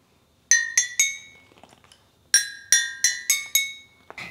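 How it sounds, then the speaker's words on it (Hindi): A toy xylophone with bright, glass-like bars is struck in separate ringing notes, three quick strikes, a pause, then a faster run of about six, each chiming tone decaying cleanly up close. "ये वाला तो बिल्कुल कांच जैसा वाला आवाज आ रहा है, लेकिन ये साइलोफोन बहुत अच्छा है।"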